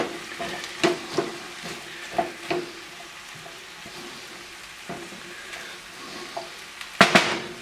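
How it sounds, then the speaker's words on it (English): Stock being stirred into sizzling beans and greens in a pan, with a steady close frying hiss under scattered spoon scrapes and clinks against the pan, with a louder clatter near the end. "I'm going to stir the stock into everything"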